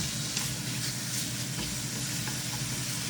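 Salt and pepper smoked bacon fries in a pan with a continuous close sizzle, crackling with small pops over a low steady rumble. Nobody speaks.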